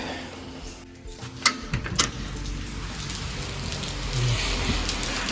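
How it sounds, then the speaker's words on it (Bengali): Heavy rain pours in a dense, continuous hiss in Vilnius, with a few sharp clatters and knocks nearby early on. "ভালোই বৃষ্টি পড়ছে"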